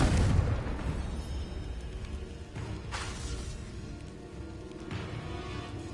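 A Confringo fire-blast spell from Hogwarts Legacy, heard as a continuous rumbling, booming burst with whooshing swells that rise and fall over several seconds, loud and dense throughout with no voices.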